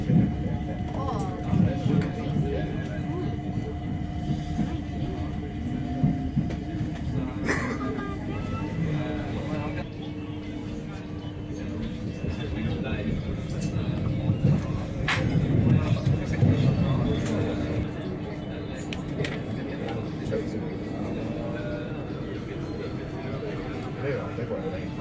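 A London train runs between stations, a steady low rumble with rhythmic clattering of wheels over rail joints and faint metallic squeals, fairly quiet and continuous throughout.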